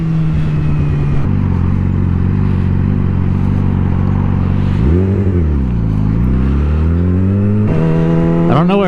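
A Yamaha R6 motorcycle engine is loud and close the whole time, holding steady, then dipping and rising through revs mid-ride before climbing sharply at the end.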